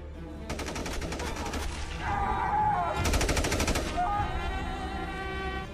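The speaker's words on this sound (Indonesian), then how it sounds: "perwira penjaga menyuruh anak buahnya untuk menembak Hasan hingga tewas" Bursts of automatic gunfire from guards in an Iranian war film, two rapid rattling volleys under a steady soundtrack bed, moderately loud.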